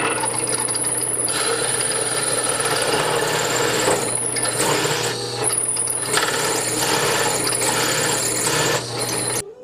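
A power tool cuts out the center of a bolted wooden piece for an observatory pier, a continuous whining, rasping buzz with short dips and changes in load as the blade works through the wood.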